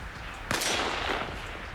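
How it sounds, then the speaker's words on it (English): A rifle shot in the military video game Arma Reforger cracks sharply once, close and loud, then rings out in a lingering echo over steady background hiss. "it's going to take a few shots to get that zeroed in"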